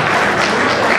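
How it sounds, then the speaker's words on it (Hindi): A crowd at a community felicitation ceremony for meritorious students in Mumbai breaks into loud, dense, continuous applause, close and sustained, with no talking over it. "मैं चाहता हूं कि आप लोग एक साथ जोरदार तालियां"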